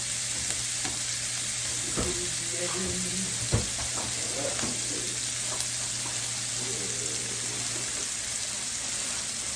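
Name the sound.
lamb chops frying in a pan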